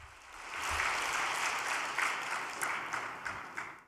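Audience applause at a devotional gathering, a steady wash of clapping that swells quickly and holds for several seconds before tapering slightly.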